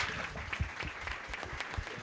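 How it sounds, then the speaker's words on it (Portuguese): Dense applause from an audience at a retail business event, a steady wash of clapping heard somewhat quietly throughout. "Vamos aplaudir isso."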